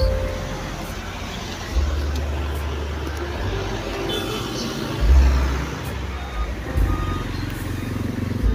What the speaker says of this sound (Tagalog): ang tutulin ng sasakyan, di ako makatawid